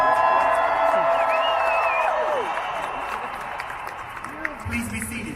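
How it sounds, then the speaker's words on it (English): Crowd applause and cheering with whoops at a Houston Community College graduation fill a large room, then taper off as voices carry over the fading clapping. "That was real applause."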